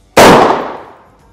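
A single sharp AR-15 rifle shot strikes a ceramic body armor plate, a loud close crack with a hard impact that rings out and decays over about a second.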